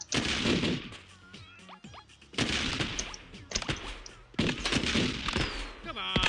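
Game gunfire from BattleBlock Theater comes in dense bursts of rapid shots and crashes, loud and continuous in three long stretches with brief lulls between them.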